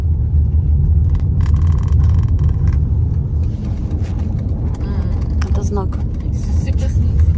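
A car rolls along slowly, and its steady low rumble and road noise carry on throughout beneath people talking inside the cabin.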